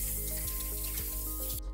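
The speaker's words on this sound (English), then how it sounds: "let's start to spray" An aerosol can sprays scanning spray onto a part resting on a paper sheet, giving a steady, close hiss that runs unbroken for under two seconds over a low background hum.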